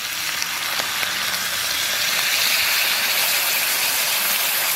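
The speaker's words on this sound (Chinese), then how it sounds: "倒入开水，" Boiling water poured into a hot pan with soybean paste and oyster sauce, giving a loud, continuous, rushing hiss of steam and sizzle throughout, no talk.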